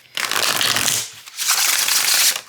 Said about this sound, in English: I love a good deck that shuffles like that.